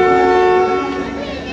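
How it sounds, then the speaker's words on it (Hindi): A short departure whistle from the Tezgam passenger train sounds loud and steady, with layered harmonic tones, as the train begins pulling away from the station, fading slightly toward the end. "दूसरा डिपार्चर विसल हुआ छोटा सा और ट्रेन मूव करने लग गई है"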